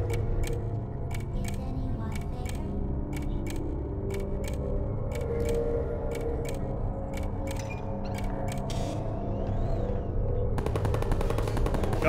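Automated turrets in Portal fire rapid bursts at the player, sharp ticking shots repeating in quick regular clusters over a steady game-ambience hum, with a denser crackling burst near the end.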